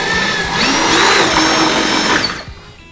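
Power drill boring through a boat dash to mount a horn, a loud steady whine lasting over two seconds before winding down and stopping near the end.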